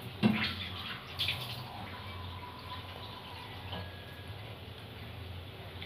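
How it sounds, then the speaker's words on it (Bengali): Water is poured into a pan to cook Maggi noodles, a soft steady trickling stream running under a low hiss, with a couple of brief clinks near the start. "এবার পরিমাণ মতন জল।"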